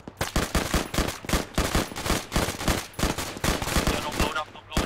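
Sustained automatic gunfire in a military video game: dense, rapid bursts of loud close shots rattling almost continuously for several seconds, with a voice faintly beneath.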